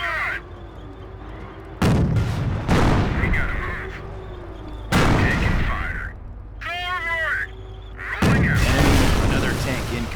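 Tank cannon fire in the Company of Heroes video game, with four heavy booming impacts spaced a few seconds apart, a sharp squawking cry between them and a low battle hum underneath.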